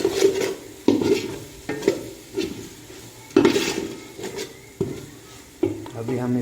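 Carrot vegetable dish cooking in a pot, with repeated scraping and clinking stirs against the metal over a soft sizzle, each stroke fairly close and distinct.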